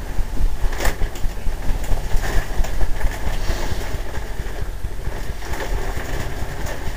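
Substrate is dumped into a reptile enclosure, making a continuous loud rushing, gritty rumble that holds steady throughout, with no talking.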